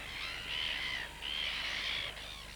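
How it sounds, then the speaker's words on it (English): Red-billed gulls call at a nesting colony on volcanic rock by a lake in New Zealand. Two long, shrill, wavering cries come close together at fairly loud level over a quiet background. "The red-billed gull is a small, delicate-looking bird confined to the temperate zones of the southern hemisphere"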